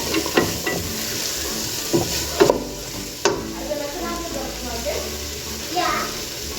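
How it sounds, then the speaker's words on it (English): Potatoes, carrots and corn sauté in a pan for a coconut and fish soup, giving a steady close sizzle broken by scraping stirs and clinks of a utensil, with a voice faintly in the background. "So I'll just put in the potatoes, carrots and corn inside here. Let everything fry up,"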